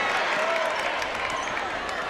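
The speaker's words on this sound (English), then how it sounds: "That draws him a serious applause from Coach Strickland" A crowd at a state championship basketball game applauds a left-handed layup, with loud, continuous clapping and cheering filling the gym.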